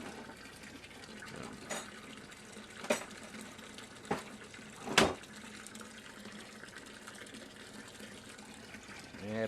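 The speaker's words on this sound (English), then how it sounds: "Takes it a minute to get the air out of the pump." Water from a pump flows steadily through a hose, a continuous rushing wash in a newt-keeping setup, broken by a few sharper knocks and splashes over about nine seconds.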